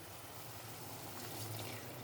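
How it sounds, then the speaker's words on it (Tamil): Water poured into a pan of mushroom gravy during cooking, a soft continuous splashing wash, faint and steady for a couple of seconds with no talking. "இப்போது இதுக்கு தேவையான அளவு தண்ணி ஊற்றிடலாம்"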